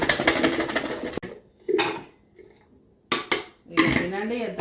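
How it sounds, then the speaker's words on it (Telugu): Food with salt and red chili powder rattles inside a lidded metal pot as it is shaken to mix, coming in loud clattering bursts separated by quieter gaps, with a voice speaking briefly in between. "ఇది మూత పెట్టి ఇట్లా ఉప్పాలండి"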